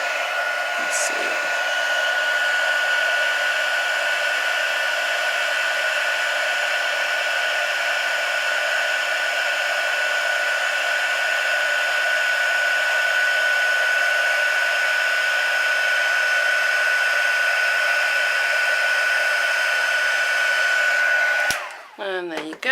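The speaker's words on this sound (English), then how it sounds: "you then get your heat gun and heat set it" Heat gun blowing a steady, even whine and rush of air to heat-set embossing powder on a card, running continuously before clicking off abruptly at the end.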